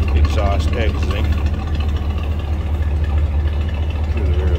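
A 1955 Ford Thunderbird convertible idles steadily, its exhaust giving a continuous low rumble that stays loud and even throughout, with a person talking over it.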